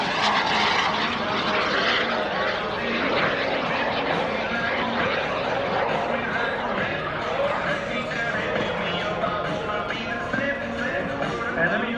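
A small kit-built light propeller airplane drones past at an airshow with a steady buzzing engine, loud and close throughout, with faint crowd noise in the background.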